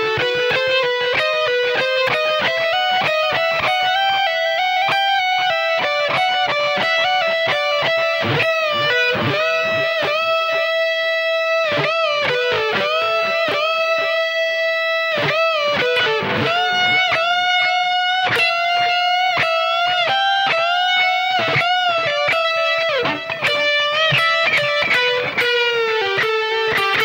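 Distorted electric guitar plays a riff, a fast repeating cycle of bright picked notes ringing continuously and evenly for the whole stretch, close and alone.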